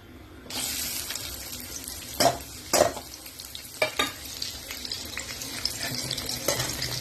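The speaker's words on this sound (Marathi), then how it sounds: "हे बघा मी आहे ना कांदा टमाटा फ्राय करायला टाकला" Chopped onion and tomato dropped into a spoonful of hot oil in a pan, sizzling and frying steadily up close, with a few sharp clatters of stirring over the hiss; no one speaks.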